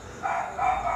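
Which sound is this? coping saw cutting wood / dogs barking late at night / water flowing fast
dogs barking late at night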